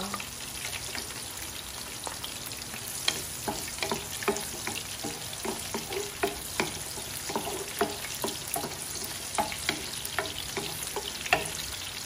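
Garlic, onion and chorizo sautéing in a hot pan, a steady sizzle with frequent sharp clicks and scrapes of stirring spread evenly throughout, no voices.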